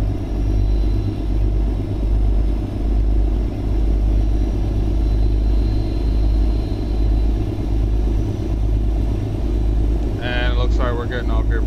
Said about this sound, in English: Like that deep grumble of this motor is just ridiculous